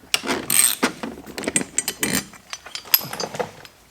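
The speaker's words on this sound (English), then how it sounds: "It's a 6mm Allen socket, or Allen wrench, whatever you got." A 6mm Allen socket working loose the passenger grab handle bolts on a Honda Goldwing GL1800, giving a string of close ratcheting clicks and metallic mechanism ticks with brief light clinks, without talk.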